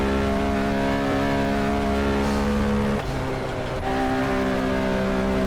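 Race car engine in a racing video game set at the 1970 24 Hours of Daytona, droning loud and steady at high revs with a sustained harmonic whine, a brief dip and gear change midway, then resuming at full pitch.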